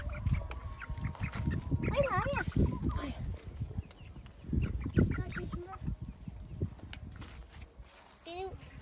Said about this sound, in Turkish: Gördün mü tavukları?